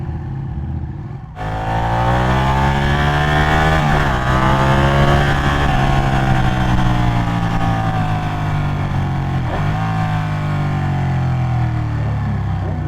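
A superbike on a city street in Bangalore pulls away hard, its engine note climbing and wailing loudly through rising revs with brief gear changes, close and dominant over street noise.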